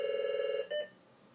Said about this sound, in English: We'll just all wait together till the phone's done ringing.